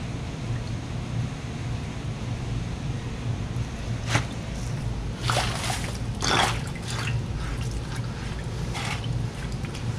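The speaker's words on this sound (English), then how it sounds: "I'm running them to see if they pump water out" A laundromat washing machine pumps water out of its drum, a steady low churning drone broken by several brief splashing, trickling bursts of water near the middle, close and with no voices.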